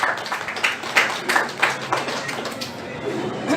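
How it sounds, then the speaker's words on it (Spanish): A welcoming round of applause for a speaker at a feminist epistemology lecture: scattered individual claps from a modest audience, uneven and fading, with some murmuring voices underneath. "Le damos un aplauso de bienvenida"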